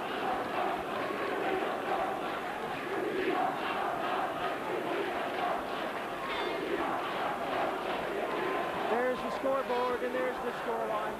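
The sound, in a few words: football crowd chanting "We are number one"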